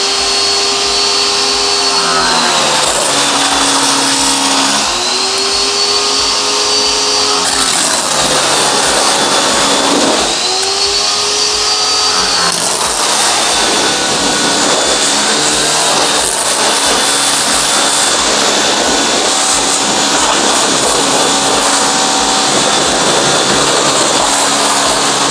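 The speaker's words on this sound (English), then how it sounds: "get the hose, put it in a medium, and just hose off the wheels" A garden hose on a medium spray setting sprays water onto e-bike wheels, a loud, steady broadband hiss of water running continuously with shifting tones as the stream moves across the wheels.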